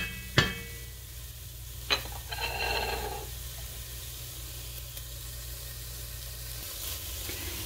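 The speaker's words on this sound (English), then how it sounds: "You want to saute those until they get soft and translucent, and they're almost to that point." Onions sauté gently in a frying pan, giving a soft, steady low sizzle and hiss, with two sharp utensil taps and a brief stir near the start, quiet and close with no speech.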